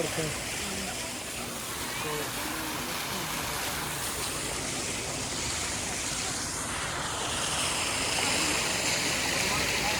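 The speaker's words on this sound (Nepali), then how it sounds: "यहाँ त हाम्रो यहाँ हेर्नु त पानीको यो छहरा पनि आउँछ" Waterfall near a temple, a continuous broadband rush of falling water filling the scene at steady volume, with a voice talking faintly underneath.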